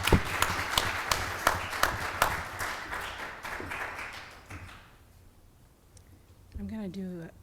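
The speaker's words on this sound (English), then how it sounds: "Give her a round of applause, please." Audience applause at a civil rights conference, many hands clapping steadily and fairly loud for about five seconds, then fading out as a speaker begins talking.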